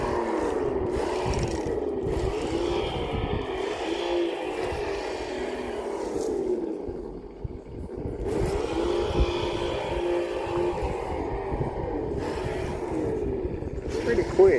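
A heavy RC car drives nearby with a whining motor rising and falling as it speeds up and slows, scraping over the ground, with people talking over it.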